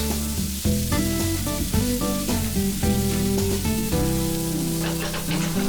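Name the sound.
Goan pork sausage meat frying with chopped tomato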